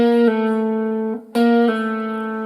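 On an electric guitar string, a fretted note is plucked away by the fretting finger so the lower note rings on; two sustained, slightly distorted notes are played in turn with a brief gap, close and clear.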